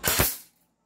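An M14 SOCOM airsoft gun fires one sharp, loud shot up close that decays quickly into silence.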